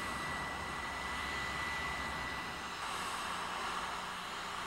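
An A-6 Intruder jet aircraft flies past in a loud, steady roar with a thin high whine running through it, sustained throughout without any voices.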